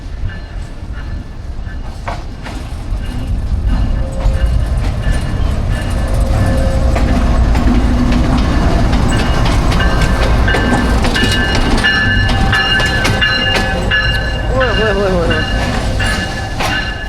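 Locomotive-hauled train on an Indian railway passing at speed, a loud sustained rumble and clatter of wheels and cars building and holding, with brief whistle-like tones and a voice talking over it.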